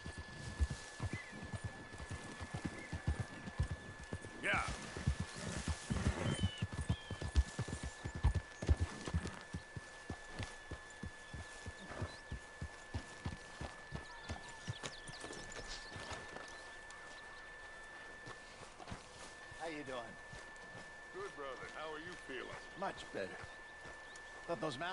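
Hooves clip-clop in a steady rhythm as a horse moves through Red Dead Redemption, loud at first and easing toward a quieter, sparser pace, with faint ambient game sounds and an occasional whinny.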